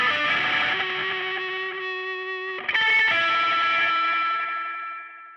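Electric guitar played through a distortion pedal and a spring-style reverb, sustained chords ringing with a splashy wash, then a fresh strum midway that rings out and slowly fades, with no voices.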